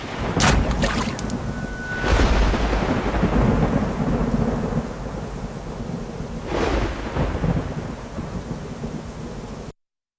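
Heavy rain hisses steadily while loud thunder cracks and rumbles, with a sharp close clap followed by two more rolling peaks.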